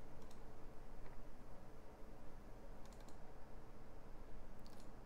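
Computer keyboard keys pressed a few times in quick clusters, faint and close, over a steady low background hum while someone cuts nodes in Unreal Engine 5.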